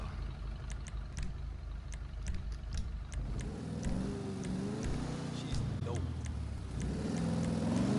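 A pink car's engine in the GTA V video game, revving up and down in rising and falling sweeps over a steady background hum. It grows louder and more strained in the later half.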